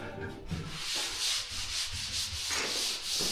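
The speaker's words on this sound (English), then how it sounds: "He's sanding the walls" A worker sands interior walls in a building under reconstruction, a steady rhythmic scraping and rubbing at moderate distance, repeating strokes with no talking.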